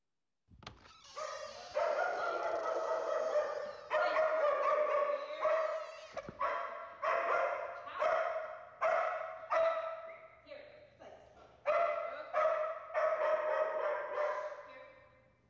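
A dog reacting to a stranger entering through a door, barking repeatedly in loud, close bursts with short gaps between them, some barks tipping into whines and yips.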